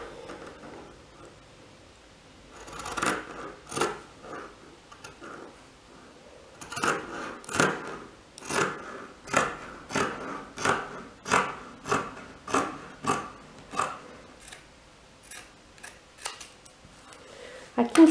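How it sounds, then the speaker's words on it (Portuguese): Scissors cut through blouse fabric with a rapid series of sharp, close snips in an even rhythm, preceded by a few quieter cuts and light rustling. "Aí é muito fácil, agora é só cortar."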